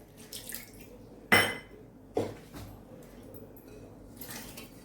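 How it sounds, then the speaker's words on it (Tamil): Half a tumbler of water poured into a mixie jar while making drumstick-leaf (moringa) soup in a village kitchen: faint, short splashes and trickles with a couple of sharper splash onsets, surrounded by quiet. "அரை டம்ளர் தண்ணி ஊற்றிருக்கேன்."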